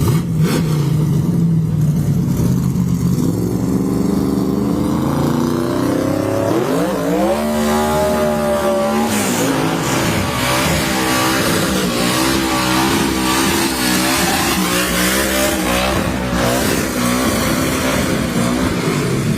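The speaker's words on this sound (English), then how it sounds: "Oh my God, that was one hell of a tire warm-up. That was more like a burnout." A 1,000 wheel-horsepower Chevrolet wagon drag car running two-shot nitrous does a long, loud tire warm-up burnout in the left lane at a Christmas tree drag race, its engine roaring and rising in pitch with a harsh continuous howl.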